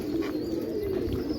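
Pigeons cooing indoors at a home, a soft continuous low murmuring coo running steadily through the short moment, close by with no talk.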